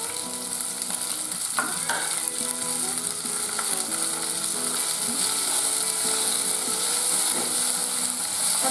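Onion, green peas and chopped tomato sizzle steadily in hot oil, a loud continuous frying hiss with occasional scraping stirs and clinks throughout, no voices.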